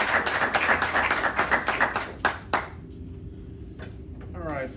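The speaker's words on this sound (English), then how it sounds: "let's give them a round of applause" A graduation ceremony audience claps for a class: a burst of close, sharp handclaps for about two and a half seconds. It then thins to a few scattered taps and quiet room noise.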